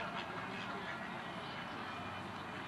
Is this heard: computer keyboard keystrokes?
no